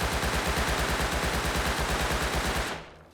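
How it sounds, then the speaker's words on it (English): A Thompson submachine gun in the Rust video game fires one long continuous burst of rapid, evenly spaced close shots for nearly three seconds, then stops and leaves a brief fading echo. "Here's a Thompson."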